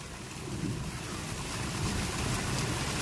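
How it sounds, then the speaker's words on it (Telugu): Heavy rain pours steadily in a broad, even hiss close to the microphone, a constant wash with faint wind rumble and no voices. "కానీ ఫస్ట్ టైం ఈ ఇయర్లో ఇంత వర్షం పడడం బాగుంటుంది"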